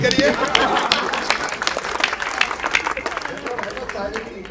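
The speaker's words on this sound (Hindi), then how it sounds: "जोरदार तालियों से लटूरी लट को आमंत्रित करिए।" An audience at a Hindi comedy poetry show applauding to welcome a humorous poet, a burst of crowd clapping with cheering and babble, loud and continuous, with voices mixed in.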